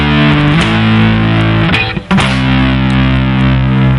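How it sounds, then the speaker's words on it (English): Loud distorted electric guitar chords ringing out, sustained strums with a brief choked gap in the middle, no voices. "you see I've added some distortion on the guitar."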